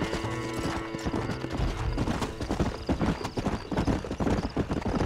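Horse galloping in the video game Red Dead Redemption, a fast rhythmic clip-clop of hooves with a whinny, loud and close over game music and ambience.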